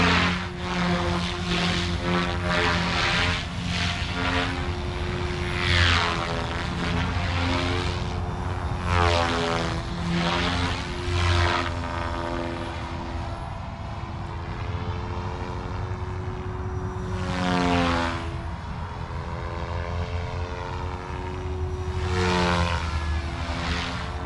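Goosky RS4 RC helicopter rotor spinning at idle up one, around 2800 RPM, a loud steady whine with strong harmonic bands that waver slightly as the head speed shifts, close and continuous throughout.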